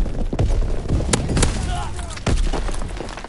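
A grenade blast and gunfire in a Call of Duty WWII multiplayer match, with sharp repeated bangs and a heavier boom ringing out amid steady battle noise.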